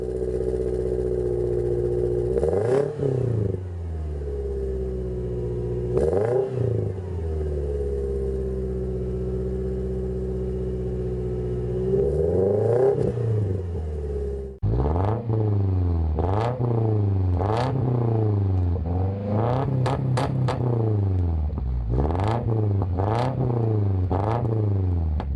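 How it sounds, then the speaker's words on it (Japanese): Subaru Impreza G4 (GJ series) exhaust and muffler, a steady idle rumble broken by several revs and then a run of rapid repeated throttle blips, loud and close with no talking. "ジーフォーマフラー音参戦。"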